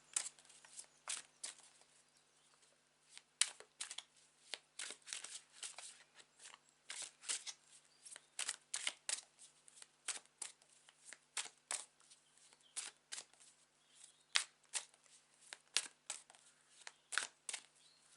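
Tarot cards shuffled by hand, a long run of quick papery riffles and slaps in irregular bursts, close and fairly soft, with no talking.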